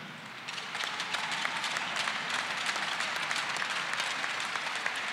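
A room full of people applauding steadily at a farewell speech, with dense, even clapping that holds at moderate loudness for several seconds.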